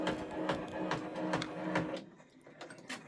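A 10-needle embroidery machine sews a placement stitch, giving a fast, steady mechanical chatter of needle strikes at close range that drops away and turns sparse near the end.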